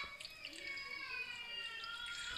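Water pouring into a small kadai, a soft continuous trickle and splash with a faint ringing tone, close and fairly quiet, without talk.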